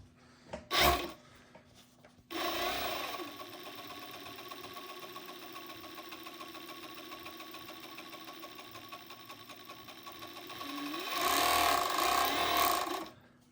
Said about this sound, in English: you can make the machine sew slightly slower for you